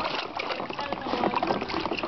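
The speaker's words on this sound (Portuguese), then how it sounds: "Mila, bate na água, bate assim, ó, Mila, ó." A baby slaps bathwater with small hands, giving a brief run of soft splashes and trickling drips close by, fairly quiet and continuous.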